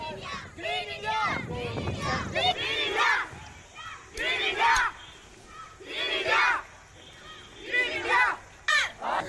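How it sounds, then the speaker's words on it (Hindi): School students at a Gandhi Jayanti rally in Poonch, Kashmir, chant Green India Clean India slogans outdoors as a crowd, in repeated loud rhythmic bursts with short pauses between them. "ग्रीन इंडिया क्लीन इंडिया के नारे बुलंद किए गए।"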